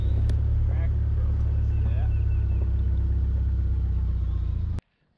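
A Subaru Outback driving along a road, its engine and tire rumble steady and loud from the inside for nearly five seconds before cutting off abruptly; a voice is briefly audible over the noise.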